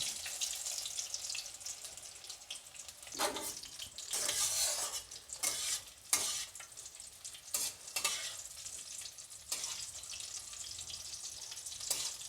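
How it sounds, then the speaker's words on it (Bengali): Fish fries in oil over low heat with a steady soft sizzle, broken by several louder bursts of crackling and stirring scrapes, close and with no talking. "আঁচটা একটু কমিয়ে ভাজতে হবে, বেশি আঁচে ভাজলে ওপরটা লাল হয়ে যাবে।"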